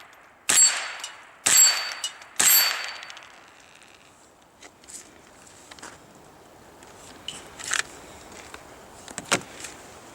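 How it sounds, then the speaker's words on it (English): Three sharp, loud shots ring out about a second apart from a Walther HK G36 .22 LR rimfire rifle, followed by quieter metallic clanks and handling noises. "Those are literally the first shots, just wearing it in a little bit."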